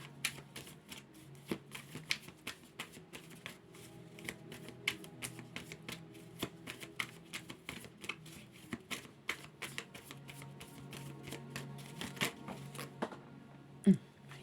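Tarot cards are shuffled and drawn close up, with soft repeated riffling and crisp flicks and taps throughout, faint and steady with a sharper snap near the end.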